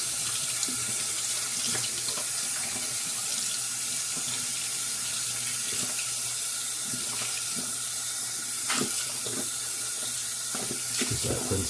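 Water runs steadily from a bathroom tap while a shaving brush is rinsed, a constant close splashing rush with small irregular spatters over it.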